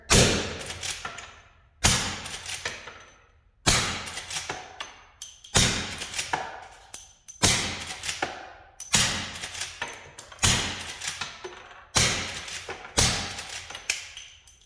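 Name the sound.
lever action gun shooting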